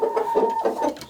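Roosters and cockerels on a Swedish farm cluck in short, close, repeated bursts over about a second, with no voices.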